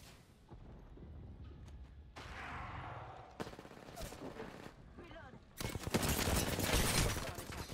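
Bursts of gunfire in the Apex Legends video game, short volleys breaking out then a loud sustained rattle of shots near the end, with a voice talking at times.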